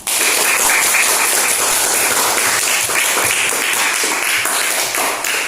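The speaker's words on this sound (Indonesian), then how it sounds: "untuk selanjutnya kita berikan aplaus kepada kita semua" An audience claps loudly and continuously after a group presentation in a classroom, a dense burst of applause that lasts the whole stretch.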